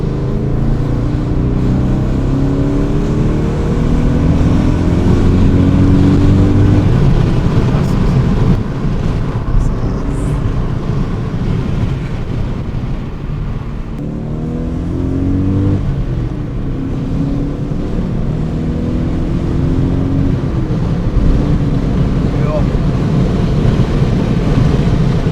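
A BMW E39 M5 V8 accelerating on the road, a deep, continuous engine drone that rises in pitch through the gears, loud and sustained from inside the car.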